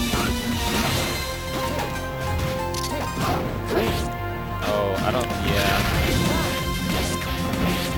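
Forward smash hit in Super Smash Bros. Melee, a Wolf and Marth/Ice Climbers tournament match, heard as a loud crashing impact in dense game action with continuous excited commentary over the top.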